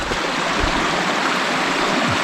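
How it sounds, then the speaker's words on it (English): Steady rushing of a river stream at a woodland hiking trail crossing in Ontario, a continuous broadband wash of flowing water, close and fairly loud, with no voices. "First river crossing."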